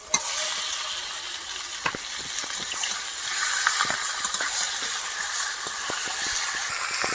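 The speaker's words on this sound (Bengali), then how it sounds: "মশলাগুলো একদম ভালো করে ভেজে নিয়েছি, এবার মাংসটা দেবো।" Meat added to well-fried spices in a pan for a village-style meat curry, a continuous close sizzle with frequent stirring scrapes and clicks.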